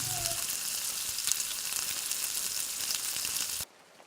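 Chopped onion and curry leaves sizzle steadily in hot oil in a pan, a constant hissing fry that cuts off abruptly near the end.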